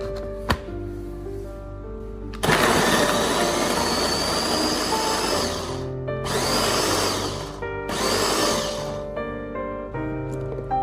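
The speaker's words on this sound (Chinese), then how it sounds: "把大蒜放入一个破壁机里面，把大蒜打成蒜末" A high-speed blender minces garlic cloves in three loud whirring bursts, each lasting a few seconds with short pauses between them, over faint steady tones.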